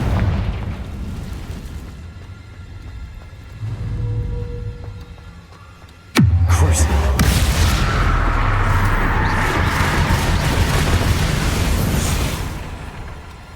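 Confringo fire spell blasting in the video game Hogwarts Legacy: quiet game ambience, then a sudden loud explosive crack about halfway through, followed by a sustained, roaring rumble.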